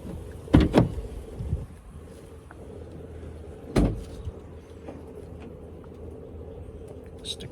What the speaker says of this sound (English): And let's go open the back door.